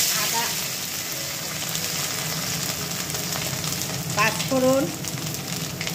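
Bay leaves, dried chillies and whole spices frying in hot oil in a kadai, a steady close sizzle with crackling pops, while someone talks over it.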